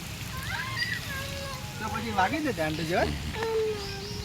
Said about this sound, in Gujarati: પાણીનો છંટકાવ થઈ રહ્યો છે.